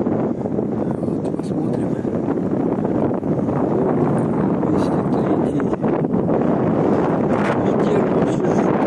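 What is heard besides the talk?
strong wind at a dam beach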